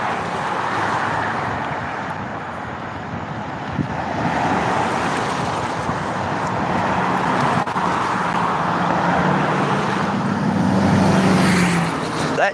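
A truck passes on a road amid steady traffic rumble, a broad continuous roar swelling gradually louder toward the end, with no voices.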